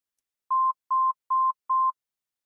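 A melody generated in Desmos plays as four short, evenly spaced synthetic beeps, each a pure tone at the same pitch with a rest between notes, clean and alone.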